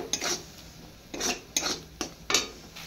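A spoon stirs pasta spice mix in a pan after water is added. Short scraping, sloshing strokes come up close in four or five quick bursts.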